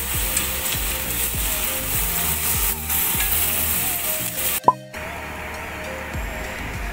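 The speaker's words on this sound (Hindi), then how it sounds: "इसी प्याज के साथ हम ये हमारा अदरक लहसुन भी भून जाएगा" Onion, ginger and garlic fry in a pan with a steady, close sizzle that runs throughout, broken by a sharp metallic clink near the end and a brief drop before the frying hiss resumes.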